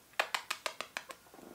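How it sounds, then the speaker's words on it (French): A cat at a window gives a quick run of about seven short rhythmic pulses close by, tapering into softer flutters at the end, with no talking. "Il y a un chat dans ma fenêtre présentement,"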